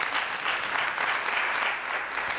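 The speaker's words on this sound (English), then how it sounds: "can we give them a round of applause?" An audience at a youth expo session on makeup artistry and content creation applauds steadily, a dense wash of many hands clapping at moderate loudness throughout, with no voices.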